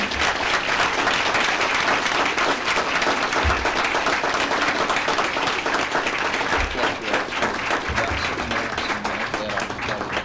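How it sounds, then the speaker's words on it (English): Sustained applause fills a city council meeting in Haltom City, a dense, steady wash of many hands clapping at close range with a murmuring crowd beneath, running without pause throughout. "let's give him a big round of applause"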